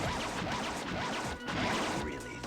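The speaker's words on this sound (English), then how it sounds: "The sound of the sword and then the double hit." Sharp metallic sword slashes and hits from the video game Naruto Clash of Ninja land amid busy, layered game effects, with a quick double hit in the middle of the dense, loud mix.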